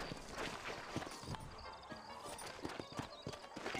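Horse hooves clip-clopping at a walk in the video game Red Dead Redemption, a quiet, uneven run of soft hoof falls with faint ambient noise behind.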